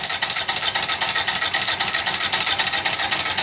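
Small steam engine running on a flash steam generator at roughly 200 RPM, giving a fast, even train of soft chuffing exhaust pulses that continues steadily and fairly loud throughout, with no voices.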